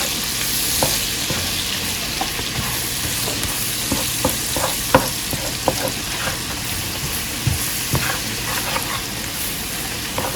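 Flour stirred into sizzling smothered fried chicken gravy in a pan, a continuous close frying sizzle with scattered scrapes and clicks of stirring throughout.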